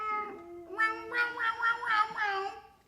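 A cat meows repeatedly in a rising, drawn-out series of close, clear calls, heard alone with no talking.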